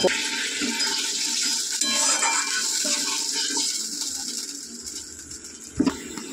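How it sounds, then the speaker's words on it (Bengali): Water poured into a pan of fried spices for a prawn and pointed gourd curry, a close hissing splash with gurgling that runs several seconds, ending in a short clatter. "এবারে জল দেবো।"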